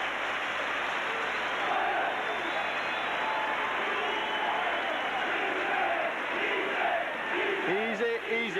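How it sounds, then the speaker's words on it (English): Rugby league crowd at Headingley during a 1989 Leeds versus Warrington match, a dense continuous roar with cheering and chanting voices rising through it, loud and sustained throughout. "Easy, easy, shouting the crowd."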